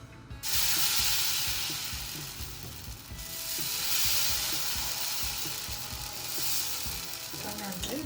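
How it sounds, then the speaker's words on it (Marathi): Ghee sizzling on a hot pan for moong dal chilla, a loud continuous hiss that swells and eases, with faint scraping near the end and no talk. "गरम झालाय मी आता थोडंसं तूप टाकते याच्यावर"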